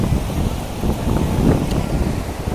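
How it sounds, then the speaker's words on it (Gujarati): Steady cold sea wind roaring over the microphone beside the sea in Mumbai, a constant low rush with slight swells; no one speaks. "આ દરિયો બાજુમાં આવી ઠંડી પવન"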